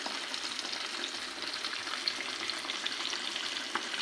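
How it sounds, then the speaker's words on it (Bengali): Small jhatka fish fry in a pan with a steady, gentle sizzle and crackle, close and fairly quiet, holding an even texture throughout with no talk over it. "আর রান্না করছি মাছ ভাজি"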